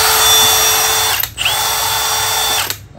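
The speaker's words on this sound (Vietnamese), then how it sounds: "Có búa, khoan gỗ, khoan sắt và bắn vít." A Milwaukee 2804-20 brushless cordless hammer drill running loud and close in two steady whirring bursts, separated by a short pause as the trigger is released.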